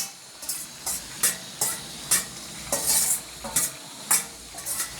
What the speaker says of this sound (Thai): ใส่ผักลงไปนะครับ ผักที่เตรียมมานะครับ